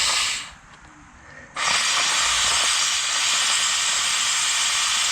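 Compressed air blown into a leaking Volvo heater core hisses steadily through pinhole leaks, starting with a short burst, dropping briefly, then returning as a loud, continuous close hiss.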